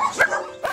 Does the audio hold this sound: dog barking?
yes